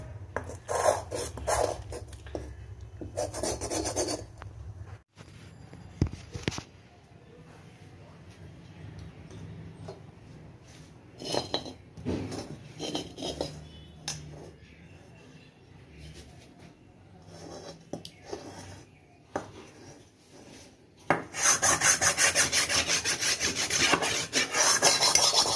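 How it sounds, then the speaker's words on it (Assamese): A brick is rubbed back and forth against a metal kerahi (wok) to scour it clean, giving loud, repeated rasping strokes in bursts, with pauses between them. "এইটো ইটাটো লৈ আপোনালোকে এনেদৰে মাৰি থাকিব।"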